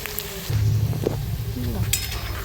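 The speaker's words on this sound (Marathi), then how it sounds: "तेलाला कलर येईपर्यंत मी कांदा तळत आहे" Onion and green chilli frying in oil while being stirred, making a soft, continuous sizzle with a low background hum.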